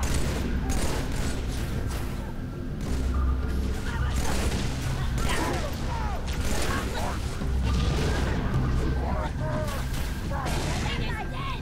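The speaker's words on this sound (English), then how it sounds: "Setting up an AA battery. That thing will tear the dawn apart." An anti-aircraft battery fires in Halo 3, a dense, sustained clatter of rapid shots with crashing impacts throughout. Voices talk and shout over the steady barrage.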